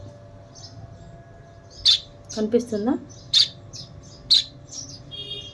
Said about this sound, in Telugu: చూడండి ఒక బర్డ్ ఇక్కడ ఉంది